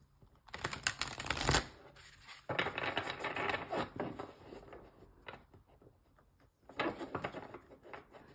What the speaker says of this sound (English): I don't know why I felt I needed to shuffle three times, but I did.